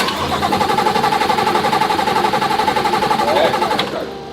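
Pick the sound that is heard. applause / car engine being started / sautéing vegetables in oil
car engine being started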